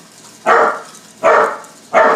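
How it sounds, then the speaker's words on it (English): A dog barks at deer outside, giving three loud, evenly spaced barks, each a sharp burst with a short tail, close to the listener. "barking at some deer outside"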